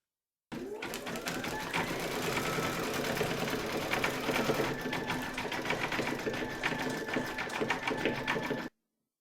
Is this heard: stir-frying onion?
no